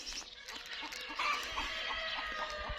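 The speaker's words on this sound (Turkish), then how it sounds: "Tavuklar da yumurtlayacak galiba." Soft, scattered clucking from chickens in a village, amid a busy background of faint rustling and ambient noise, no single call standing out.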